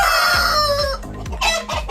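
Kasipagan chickens cluck and a rooster calls close by, several overlapping short clucks and crowing notes with no talking.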